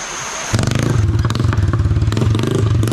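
A motorcycle on a village road starts up loudly after a brief quiet moment and then runs close by with a steady, rattling engine throb and some clatter.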